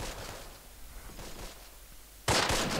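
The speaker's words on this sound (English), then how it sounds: "We're shooting at them now." Muffled, sporadic shooting during an infantry battle in Close Combat: Wacht Am Rhein, followed by a sudden loud sharp burst near the end.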